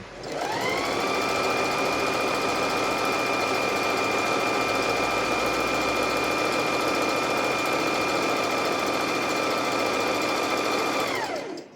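A domestic sewing machine runs steadily through a zigzag stitch, a loud, continuous mechanical whir with a fast even rhythm, close up and alone, starting and stopping cleanly.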